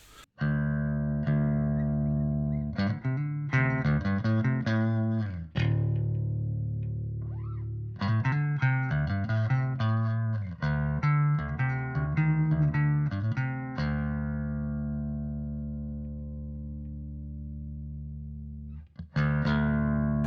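Clean electric bass notes through a preamp with flanger, played in short runs with sustained held tones between, a gentle sweeping whoosh moving through the sound; no talking.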